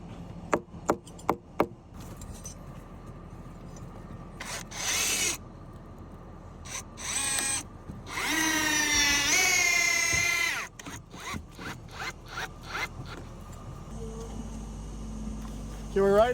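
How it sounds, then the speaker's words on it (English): Power drill bursts driving screws into the corner of a log cabin during a winter build, several short whirring runs with a longer grinding stretch, heard outdoors amid clatter and crew voices. "Justin, put screws in this corner"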